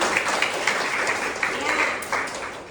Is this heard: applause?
yes